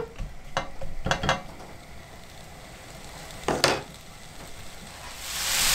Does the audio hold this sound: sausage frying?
yes